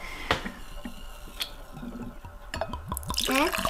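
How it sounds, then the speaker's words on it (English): Ginger beer poured from a bottle into a glass in a kitchen, giving a run of short gurgling glugs and splashes that quicken toward the end, with a faint voice in the background. "We got our ginger beer, and why don't you pour up some there?"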